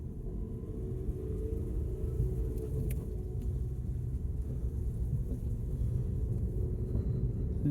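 Part-exchanged car driving along with a possible exhaust blow, a steady low engine rumble and road noise from inside the cabin, with a faint click or two and no voices.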